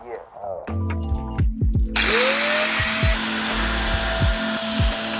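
A grinder sands car parts for a Golf GTI Mk II, whirring steadily and loud up close, with a rising whine as it spins up and a few knocks and scrapes over a continuous hiss.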